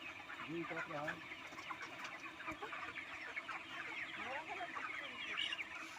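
Chickens cluck at a poultry shop stocking two kinds of hens, with continuous overlapping clucks and squawks close by while people talk throughout.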